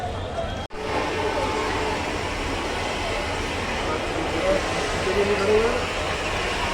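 A third AC passenger train arriving rumbles steadily close by, a continuous heavy roar with faint squealing tones near the end, voices mixed in the background.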